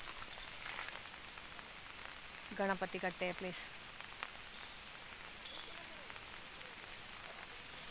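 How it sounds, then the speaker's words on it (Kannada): Light drizzle falls in a rain-hit village after heavy rain, flooding and landslides, making a soft, steady hiss throughout, with a brief voice speaking near the middle. "ಈಗ ಸಹ ಮಳೆ ಉಂಟು, ತುಂತುರು ಮಳೆ ಮಾತ್ರ"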